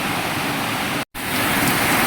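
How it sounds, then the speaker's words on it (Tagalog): Heavy rain pouring down outdoors, a steady loud broadband hiss that runs without a break apart from one very short dropout in the middle. "Sobrang lakas ng ulan dito mga lods"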